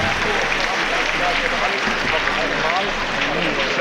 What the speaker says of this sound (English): this crowd, they'll just clap anything